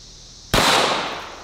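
A single sharp gunshot cracks out close by as a bullet strikes a watermelon, an abrupt loud report followed by a short decaying wash of noise, with nothing else heard.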